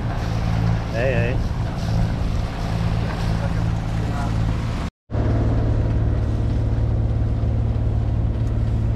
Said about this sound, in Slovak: Taká menšia loď.